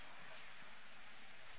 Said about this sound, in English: And that rain is really intensifying now.